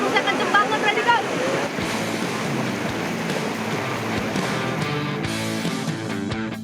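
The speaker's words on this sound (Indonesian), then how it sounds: "Waduh, arusnya kenceng banget" Strong current of the Kalibadeng river, a loud continuous rush of churning water close to the microphone, with wind buffeting and faint voices at moments.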